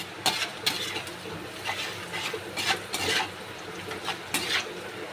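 Onions with a little salt frying in a pan until brown, soft background sizzle broken by sharp, regular scrapes and clinks of a spatula against the pan, no talking.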